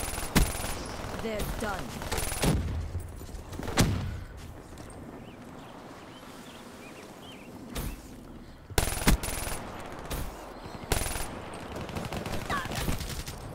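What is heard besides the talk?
gunfire in a video game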